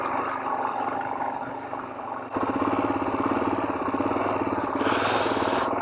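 A Suzuki DRZ 400 dual sport motorcycle rides through loose volcanic sand. Its engine drones steadily at first, then jumps to a louder, harder-pulling throttle roar about midway and holds strong to the end, with no talk.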